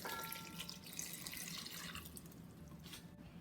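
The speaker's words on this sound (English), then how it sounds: "Next, we're gonna add in 2 cups of water." Two cups of water poured into a large pot of peaches on the stove, a steady splashing pour that runs continuously and tapers off near the end, with no talking.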